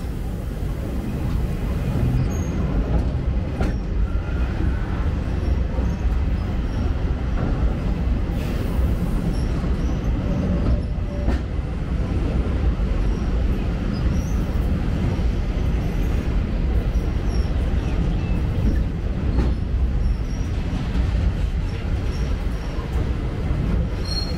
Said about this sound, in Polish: Podziwiając wspaniałe widoki, którym towarzyszy skrzypienie drewnianych części wiaduktu pod wolno toczącym się